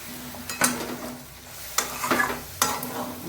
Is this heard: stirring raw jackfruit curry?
yes